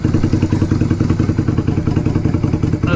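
A bobber motorcycle's engine runs loud and close during carburettor mixture screw adjustment, a steady, lumpy, thumping idle with a rough clattering beat fitted with an eBay slash-cut exhaust and 45 mm baffle.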